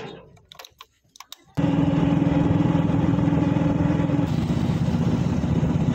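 A motorcycle engine runs loud and steady while riding out. A few sharp clicks and thumps come first, then the engine's continuous drone takes over and holds.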